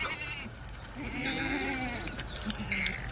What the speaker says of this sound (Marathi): फुल पॉवर डबल हड्डी शेळ्या आहेत त्या